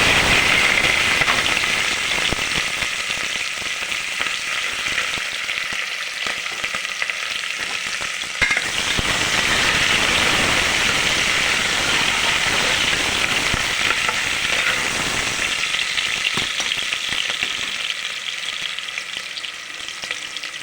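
Mustard seeds fry and crackle in hot oil, a loud, close, continuous sizzle with dense popping that runs without pause for about twenty seconds, no voices.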